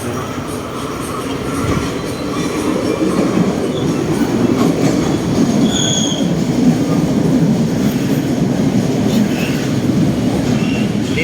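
A train pulls into a station, a loud steady rumble with rattling wheels and faint squeals that builds slightly over the first seconds and then holds, heard close from the platform, with no talking.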